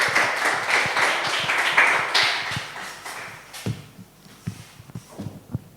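An audience at a Monday inspiration session applauds a speaker, a dense burst of clapping that thins out into a few scattered claps and taps.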